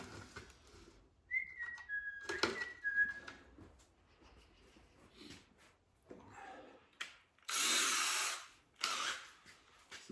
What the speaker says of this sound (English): now we drill some pilot holes